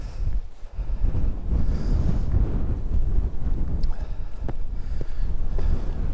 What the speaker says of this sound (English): Very blustery.